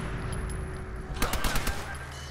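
A rapid string of 9mm pistol shots rings out in a modded video game, about six sharp cracks in quick succession over roughly half a second, loud against a quiet hum.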